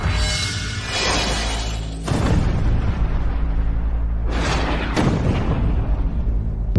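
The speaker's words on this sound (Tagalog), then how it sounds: "Sumabog ang eroplano." An airplane explodes on an island, with deep booming blasts and rumbling roars in several surges, loud and close, with no voices.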